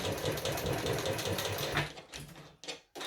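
A sewing machine runs steadily while top stitching a bag, a close, continuous mechanical whir that stops near the end, followed by a couple of brief handling noises.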